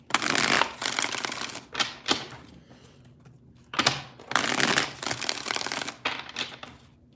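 Tarot cards are shuffled by hand in several quick riffling bursts, each a crisp papery flutter, with brief quiet gaps between them, close and fairly clear.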